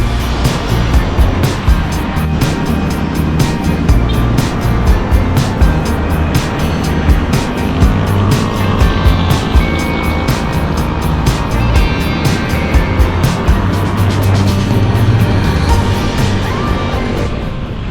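Motor vehicles pass a cyclist riding at night on EDSA in Manila. A continuous close rumble of traffic mixes with wind buffeting, and a series of rhythmic clicks runs throughout.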